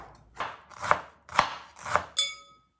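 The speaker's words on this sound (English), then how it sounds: "Slice the cabbage thinly." Knife slicing cabbage thinly on a cutting board, four crisp rhythmic chops close up, each a sharp crunchy thud, ending with a brief ringing tap, with no talking.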